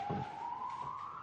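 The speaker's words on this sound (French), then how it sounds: "Tout à fait, la sirène, là." A siren wails steadily in a city street, one sustained rising tone held throughout at moderate distance with a brief low rumble at the start.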